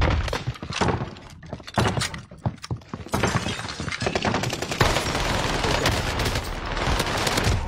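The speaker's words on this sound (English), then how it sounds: "Oh, I just got sniped from behind." Sniper gunfire in the Warzone video game, a dense, loud stretch of sharp shots and cracking impacts amid continuous battle noise, with no clear pauses.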